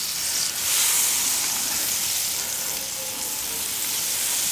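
Butter sizzles on a hot griddle with a loud, steady, hissing fry that swells briefly near the start and then holds even, with no talking.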